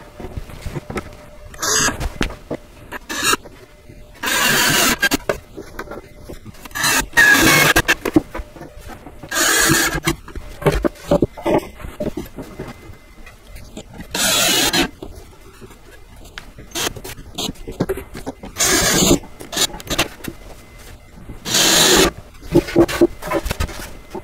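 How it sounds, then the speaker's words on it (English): A power drill drives screws into cedar sandbox boards in repeated whirring bursts of a few seconds each, separated by quiet pauses, close and fairly loud. "So let's get all these screws put into place."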